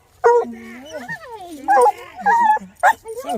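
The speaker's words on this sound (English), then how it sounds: "That's a beagle, isn't it?" A beagle puppy lets out a close run of yips, whimpers and short barks in uneven bursts, with a voice talking over the animal at times.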